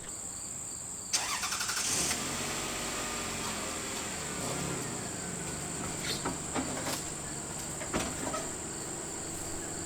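A car being moved into a driveway from a motorhome tow setup, engine running with a steady hum, a loud onset near the start and scattered clunks, with insect-like high droning in the background.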